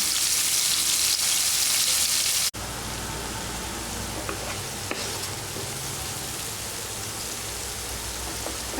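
Coriander seeds, green coriander, garlic and chili paste hit hot oil in a pan for chicken curry, a loud hissing sizzle that drops abruptly and settles into a steady frying crackle with a few stirring clicks.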